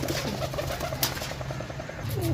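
Pigeons cooing softly at a pigeon seller's place, low repeated coos under faint background noise, with one brief sharp sound midway.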